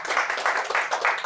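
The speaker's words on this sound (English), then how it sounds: "Hey, round of applause." An audience at an SPE technical session gives a short round of applause, a brief burst of dense clapping heard fairly close with no speech over it.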